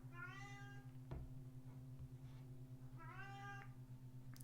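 A Cornish Rex cat meows twice, each call a clear drawn-out cry, near and moderately loud over a steady low electrical hum with a faint knock between the calls.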